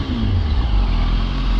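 Toyota Supra car passing on the road, a loud broad engine rush with a low rumble that swells and holds, heard from close by amid steady road noise, no talk.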